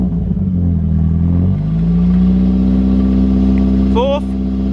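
A racecar engine revs hard and steady up through the gears at close range, its loud droning pitch dipping at a shift and climbing again, with a brief high chirp near the end.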